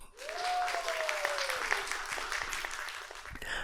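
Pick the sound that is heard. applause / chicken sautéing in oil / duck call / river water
applause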